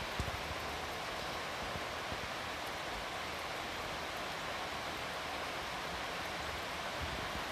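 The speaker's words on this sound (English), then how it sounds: "How long has it been since we had an hour-long rain in California?" Steady rain falls outdoors in California during an hour-long shower, a faint, even, unbroken hiss with no voices.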